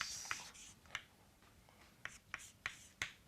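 Pen or chalk writing out structural working for a truss member force and displacement problem: scattered short taps and scratchy strokes, some sharp and clicky, close and fairly quiet, with no talking.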